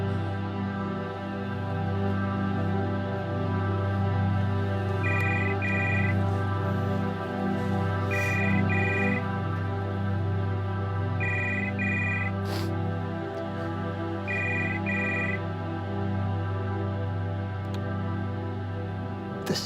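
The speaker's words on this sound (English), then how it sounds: "Mr. Stoker, pick up the phone." Telephone ringing in repeated double bursts, four pairs spaced a few seconds apart, moderately loud over a steady low background drone and music bed, with no talking.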